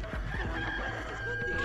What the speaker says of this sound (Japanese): 鶏が